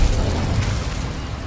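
Incendio fire spell bursting in the Hogwarts Legacy video game, a loud booming whoosh with a sharp start that rumbles on and slowly fades, heard alone with no talk.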